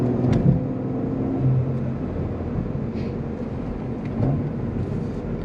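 A 2024 Cadillac CT4-V Blackwing rev-matches while being driven through town, its engine note rising in brief blips over a steady low drone of road and cabin noise, fairly loud and close.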